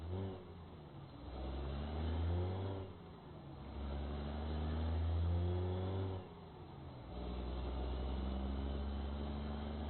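A truck engine in the game American Truck Simulator climbs steadily in pitch, drops sharply as it shifts, then climbs again, shifting gears twice. It is loud and continuous, with no voices.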